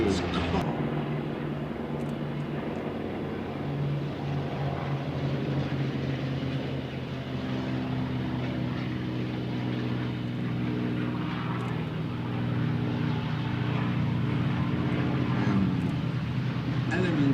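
Several Spitfire propeller fighters take off at a Duxford airshow, a steady droning engine roar with strong low harmonics. It stays loud and continuous throughout, with faint crowd chatter in the background.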